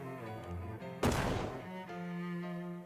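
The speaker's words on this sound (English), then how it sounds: "You've seen some disappointing explosions in your life, but that one really failed to even make a dent." In the game Shadows over Loathing, a stick of dynamite set against rock goes off as a single short, muffled thump that bursts and fades quickly over soft background music.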